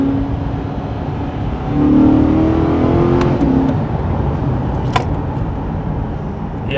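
A 2023 Corvette C8 with a big V8 accelerating hard with wheel spin, its engine droning loudly and rising in pitch from inside the cabin, with a brief chirp or knock partway through.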